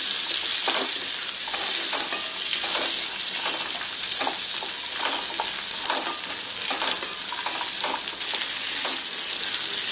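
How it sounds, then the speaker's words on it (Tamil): Small onions frying on low heat for a potato kurma, a dense continuous sizzle with scattered crackles and stirring scrapes, loud and close. "சின்ன வெங்காயம் போடுறோம் சிம்மில் வச்சே பண்ணுங்கள்"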